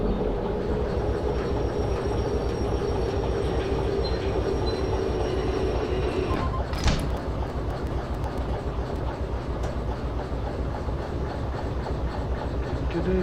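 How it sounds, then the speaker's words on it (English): A diesel locomotive engine runs steadily in the video game Derail Valley, a loud continuous rumbling drone with faint rail clatter and a brief sharp squeal partway through. "I love the sound of this little engine here."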